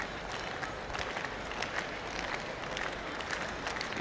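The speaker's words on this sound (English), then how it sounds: "We hear clapped on the home straight." Steady crowd applause and cheering fill the stands at a schools' athletics track championship as a runner comes down the home straight, a dense, continuous wash of clapping with no pauses.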